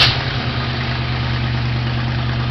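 A pre-1980s car engine idles right after starting, a loud, close, steady low rumble with an even mechanical hum and no voices.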